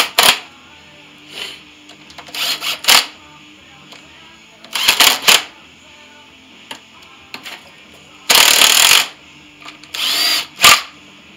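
An impact gun tightening engine bolts fires in several short, loud rattling bursts separated by pauses, with quieter clicks and handling noise between them.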